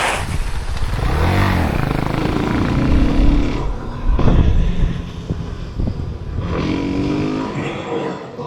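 A Suzuki DRZ400S motorcycle engine runs while riding, loud and close, its rough single-cylinder drone rising and falling in revs with wind buffeting over it.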